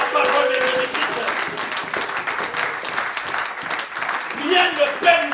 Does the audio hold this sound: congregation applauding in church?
yes